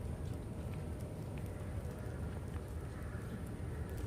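Steady rain falls outdoors, a soft, even hiss with scattered drops running continuously and no voices.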